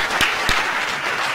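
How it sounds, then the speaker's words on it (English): Dense, loud applause from an audience at a university Freedom Week event greets a guest, steady and crowded for the whole stretch with a couple of sharper claps near the start. "Round of applause for our guest."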